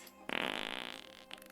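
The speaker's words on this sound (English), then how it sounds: "You gotta admit, his farts are cute." A single drawn-out fart, close and fairly loud, with a fluttering, buzzy rasp that slowly fades over about a second, heard alone without talk.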